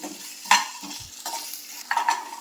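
Sandu balli leaves with garlic and onion frying in a pan, with a few scraping stirs and soft sizzling in short bursts, close and fairly quiet with no voices.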